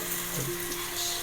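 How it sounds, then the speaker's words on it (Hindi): Onions sizzling as they fry in hot oil for a minced meat recipe, a steady close hiss with faint clinks and no talking. "तेल गर्म हो गया, अब मैं डालूंगी इसमें प्याज।"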